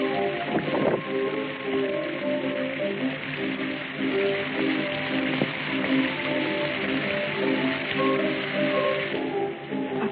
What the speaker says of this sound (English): Even though it's pouring rain outside